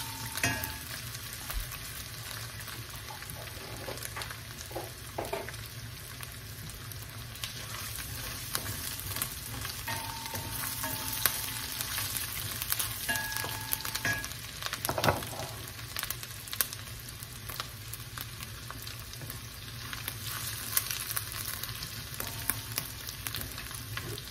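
Ginger goes into a pan of beef pares stew, which keeps up a continuous sizzle and frying crackle while a utensil stirs and scrapes now and then, with no voices.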